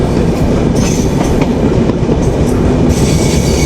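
Benapole Express passenger train running past Pukuria in Bangladesh at dusk, a loud, steady rumble of wheels on rails with faint clickety-clack and brief squeals throughout, heard from inside the carriage.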